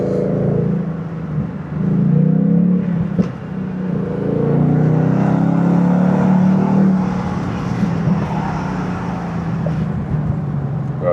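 A 500hp Ford Mustang GT engine drones and revs from inside the car while driving, a steady low growl rising and falling through the gears with road noise beneath.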